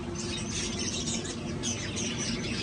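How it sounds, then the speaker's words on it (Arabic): Lovebirds chirping and twittering in an aviary, a steady busy chorus of small high calls at moderate distance with no talk over it. "هاي طيور الحب"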